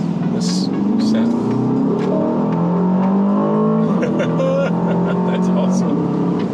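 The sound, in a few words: Aston Martin DBX 707 engine revving and accelerating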